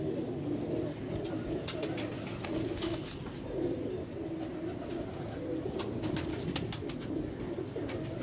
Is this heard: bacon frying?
no